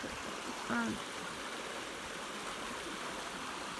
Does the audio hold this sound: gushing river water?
yes